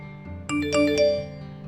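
A text message notification tone on an iOS device: a short, bright chime of several stacked ringing tones that swell and fade over about a second, clear and alone.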